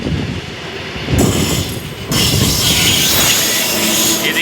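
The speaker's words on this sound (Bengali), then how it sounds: "ট্রেন, এসে পড়ছে একটা।" A train arriving, its loud rolling rumble swelling in two stages as the cars close in, with wheel screech and rattling clatter heard close to the track.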